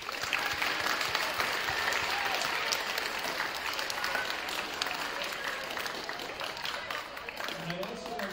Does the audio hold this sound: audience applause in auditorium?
yes